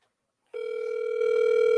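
An outgoing telephone call starts ringing, a single steady tone that begins abruptly, stays close and clear, and swells slightly louder as it continues, with no talking.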